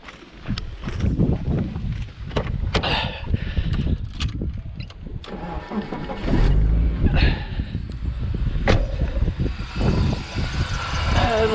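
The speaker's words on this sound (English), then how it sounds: "So I'll start the engine." A vehicle engine starting during a battery cranking test with a TOPDON Tornado4000 battery charger; loud close-up churning and rumbling that settles into a steady idle with clattery bursts.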